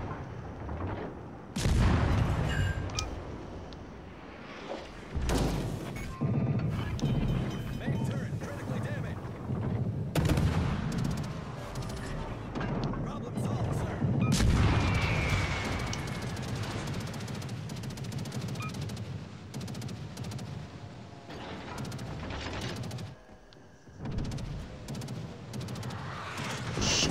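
Ship cannons firing in a naval video game, repeated heavy booms and bursts scattered irregularly over a long stretch, loud and near, mixed with crackling and voices talking.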